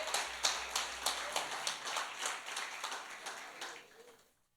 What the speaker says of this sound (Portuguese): Aplauda mais o Senhor mais uma vez